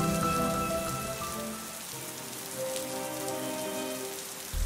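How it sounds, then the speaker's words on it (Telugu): Steady rain pattering on a surface, continuous and fairly soft throughout, with no voices. "వర్షం పడుతుంది కదా."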